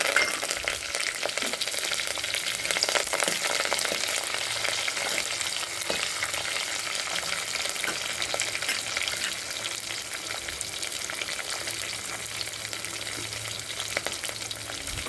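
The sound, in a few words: frying green chilies and curry leaves in oil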